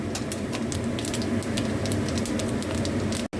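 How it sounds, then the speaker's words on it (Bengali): Panch phoron spices crackle and sizzle in hot oil, a dense steady frying hiss with scattered sharp pops, close and continuous. "আমার তেলটা গরম হয়ে গেছে, আমি দিলাম 5 ফোড়ন।"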